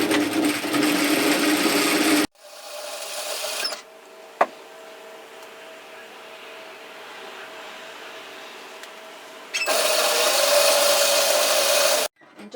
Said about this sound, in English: now we want to stitch the side seam at 1 centimetre down the outside of our garment